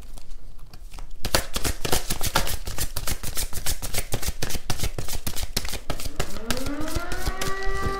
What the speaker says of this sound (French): Si vous entendez l'alarme.